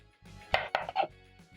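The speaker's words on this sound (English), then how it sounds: "dice 2 onions really fast" Onions being diced quickly with a knife on a cutting board make a few rapid, crisp chops in a quick cluster, close up, with a faint background hum.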